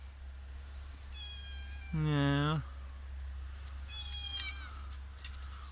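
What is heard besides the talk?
cats meowing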